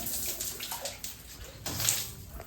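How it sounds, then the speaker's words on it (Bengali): Water released from a hand-held hose or pipe splashes and pours steadily at close range, a continuous wash with a few louder surges and no talk. "দেখো, শুধু এখান থেকে ধরো আর জল ছেড়ে দাও"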